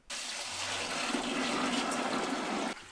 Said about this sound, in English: Let's add that sugar water here.